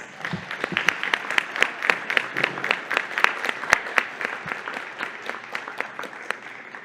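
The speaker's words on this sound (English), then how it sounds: "Let's give them a round of applause." Audience applause at an evening school event honoring Ms. Hall's daughters, heard as a steady patter of many clapping hands with sharp individual claps standing out, sustained for several seconds at moderate loudness.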